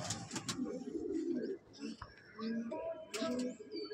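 Madrasi pigeons in a loft coo in repeated throaty rolling phrases close by, several bursts across the stretch, with people talking nearby.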